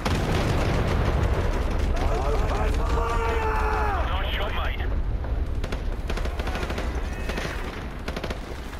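Loud gunfire and heavy explosions fill a Call of Duty 4 Remastered firefight, with dense battlefield noise throughout and a voice speaking over it.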